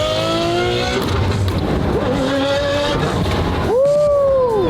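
Manually gated Ferrari 599 V12 revving hard, a loud close engine wail that climbs through several rising sweeps and ends in a sharp final rev flare.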